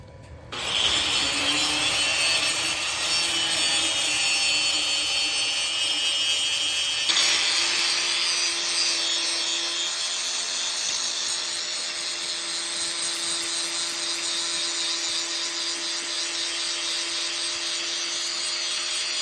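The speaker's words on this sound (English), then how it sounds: "we want to get up in here and clean out rust, get it shiny, and make it clean and weldable" A grinder cleans rust off metal to prepare it for welding. It spins up quickly, then holds a loud, steady whine with an abrasive grinding rasp for a long stretch.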